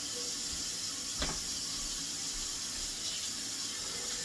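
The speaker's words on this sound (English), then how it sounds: "Got a nice hot water going here" Hot water runs steadily from a kitchen tap while a vegetable stir fry is prepared. The rush is loud and continuous, with a brief clunk partway through.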